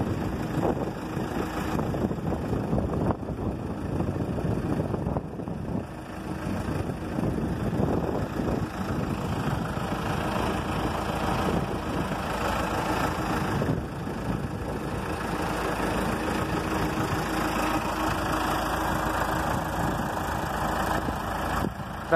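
A Claas Celtis 446 RX tractor from 2007 idles steadily, its low, even engine rumble continuous and close throughout, with no talk over it.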